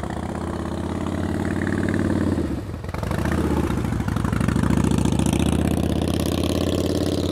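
A motorcycle engine runs steadily during slow-speed riding practice in North Carolina, holding a loaded throttle with a brief dip in revs before settling back to a loud, continuous hum, with no voices over it.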